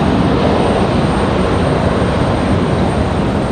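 A Republic Airways passenger jet arriving from New York lands at Raleigh-Durham International, giving off a steady, loud, broadband engine roar that holds without a break and with no voices.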